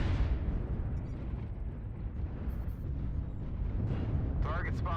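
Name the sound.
missile explosions in MechWarrior Online video game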